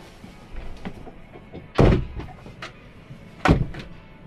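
Inside a Coachman Travel Master Imperial A-class motorhome, two solid door thuds land about a second and a half apart, each a sharp close with a short rumble, over quiet background rattles and movement.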